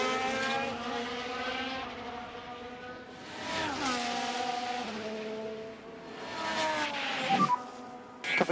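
Ferrari Formula 1 car in the F1 Manager 24 racing game at Lusail sweeps past with a rising then falling high engine whine, joined by other cars' engine tones layered over one another, loud and close, with no talking.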